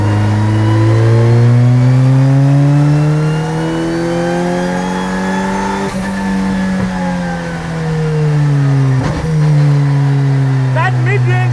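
A mid-engine Volkswagen Polo RX with a six-speed gearbox and paddle shifters accelerates hard, its engine note rising steadily and loudly. It drops briefly at a gear change, then climbs again, heard from inside the car.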